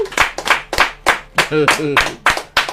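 Rhythmic group clapping in an even beat, loud and close, with a voice speaking over part of it during a lively Yoruba-language commentary show.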